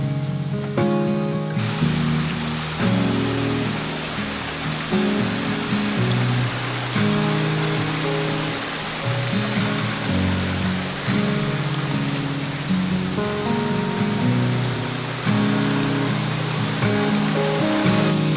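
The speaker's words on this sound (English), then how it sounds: "Rainbow Falls is a stunning 100-plus foot cascade." Rainbow Falls, a cascade over 100 feet tall in an Adirondack gorge with low water levels, roars as a steady, loud, unbroken rush of falling water, heard on its own without talk.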